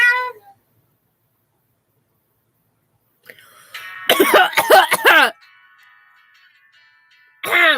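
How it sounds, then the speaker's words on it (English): A person gives a short run of harsh, deliberate coughs after a long silence, loud and close, with a brief tonal, meow-like call at the start and a voice returning at the end. "Casually coughs, covering up cough."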